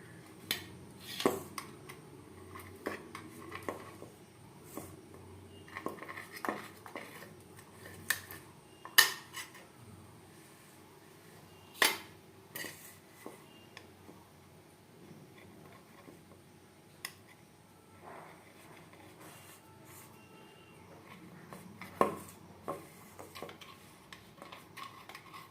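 A metal spoon scrapes and clinks against a steaming idli plate as soft idlis are loosened, making scattered, faint clicks and brief scrapes separated by quiet gaps, with no talking.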